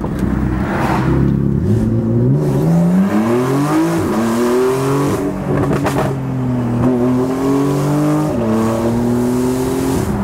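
Porsche 911 engine revving loudly through several rising gear pulls, its note echoing off nearby stone walls, close and continuous with no talking.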